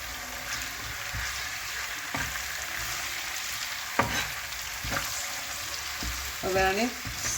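Chopped onion sautés in a pan with a steady sizzle and intermittent stirring scrapes, ending in a brief clatter of utensils.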